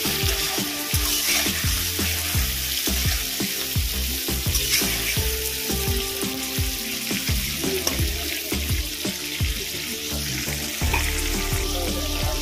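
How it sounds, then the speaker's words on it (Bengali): Shrimp frying in hot oil in a home kitchen pan, a steady loud sizzle with occasional stirring and clinks, alone with no talk. "চিংড়ি মাছটা একটু হালকা করে ভেজে নেব।"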